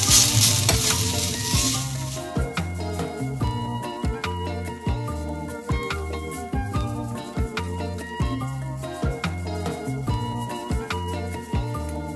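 Ridge gourd peel sautéing in a pan, a continuous close sizzle broken by regular scraping and clanking as a spoon stirs it, rhythmic and steady from start to finish with no talking.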